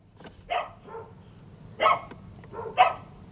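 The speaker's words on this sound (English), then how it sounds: "I got dogs and stuff barking all over the place" Several dogs bark in short bursts of one or two barks at a time, moderately distant and fairly quiet, over a low background hum with no talking.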